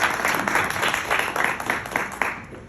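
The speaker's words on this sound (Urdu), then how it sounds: "ایک مرتبہ پھر آپ کی زوردار تالیوں میں مائک دیتے ہیں" An audience in a hall applauds for the next speaker, a steady wash of many hands clapping that carries on throughout, loud and close, with no voices standing out.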